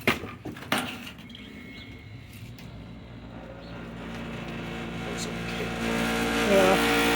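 A 1951 Mitchell dehumidifier starts with a couple of sharp knocks, then its motor rises into a steady, rattly running drone that grows louder toward the end; voices are heard briefly at the start.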